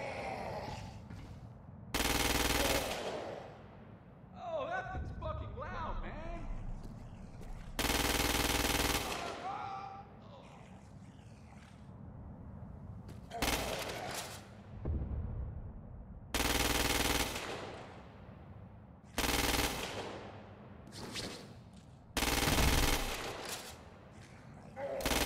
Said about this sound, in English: The ordnance you now hold is a standard issue agency assault rifle.